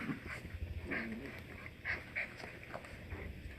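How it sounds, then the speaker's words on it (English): Eight-week-old poodle puppies whimper and yip while playing together indoors, with small whines and scuffling over a constant background noise and no speech. "It's puppy romper room right now."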